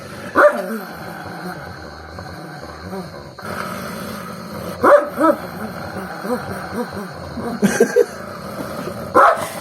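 Several dogs fighting over bread snarl, growl and bark in bursts of scuffling commotion, close by, with a few sharp yelps breaking through.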